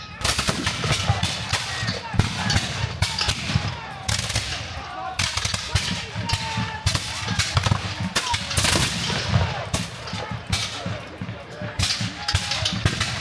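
Musket volleys crack and pop almost continuously at a reenactment of the 1775 Battle of Bunker Hill, with overlapping shots near and far forming a dense, rolling barrage throughout.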